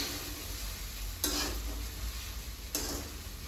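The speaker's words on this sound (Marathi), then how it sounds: "किस तळते जरा बटाट्याचा" Grated potato fries in a pan on a gas stove, a soft steady sizzle with two brief bursts of stirring or scraping, close and fairly quiet, without talk.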